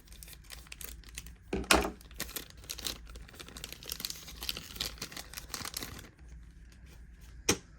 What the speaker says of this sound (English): I'm gonna use my scissors because it's a little easier